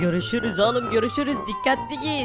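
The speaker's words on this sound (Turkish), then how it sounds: "Baksana şu siren seslerine." A fire truck siren in Minecraft wails as a steady, slowly falling tone under continuous voices talking over it.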